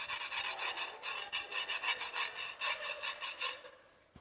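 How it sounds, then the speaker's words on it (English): A kitchen knife is dragged hard across a 1.5 mm stainless steel countertop, giving quick, rhythmic, harsh scraping strokes up close, about a dozen in a row before stopping. "Here is a knife that we will usually use in our kitchen, and I like to scratch it very hard"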